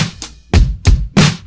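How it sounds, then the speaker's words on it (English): A brief indie pop rock drum loop with kick, snare and hi-hat, plus a crash cymbal marking a chorus, heard as a few punchy, bright hits in quick succession with no talking. "And all together, the drum loop sample thing that we made sounds like this."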